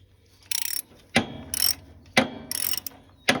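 A ratchet wrench tightening a bolt during a Cub Cadet engine swap, close, crisp clicking bursts alternating with sharp knocks as each turn is made, repeating in a steady rhythm.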